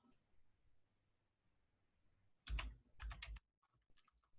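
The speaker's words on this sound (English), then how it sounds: "What we're going to do is we're going to start typing." Bursts of computer keyboard typing during a Roblox scripting session, quiet at first then a close cluster of rapid key clicks in two quick flurries, with a few scattered taps trailing after.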